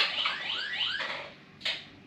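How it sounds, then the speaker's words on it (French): A door alarm goes off because the door is left open, giving repeated rising electronic tones followed by a short, sharp beep, fairly faint against room noise. "quand la porte n'est pas fermée, ça sonne"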